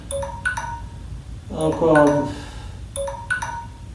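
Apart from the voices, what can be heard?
alarm ringing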